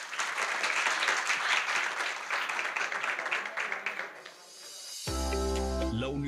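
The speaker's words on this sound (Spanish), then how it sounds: "un aplauso pues para finalizar" Audience applause closing a human resources forum at a university, dense clapping that fades out after about four seconds before a musical jingle takes over.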